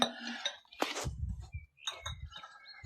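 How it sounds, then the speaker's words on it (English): Small birds tweeting in the morning, bright chirps and short trills coming in scattered bursts close by, mixed with a few faint clinks and low thumps. "The birds aren't off tweeting this morning, aren't they? Noisy little beggars."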